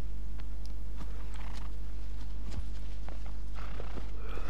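Horse hooves clip-clopping in the video game Shadow of the Colossus, a steady walking rhythm of light hoof taps over a constant low hum, moderately loud with no talk.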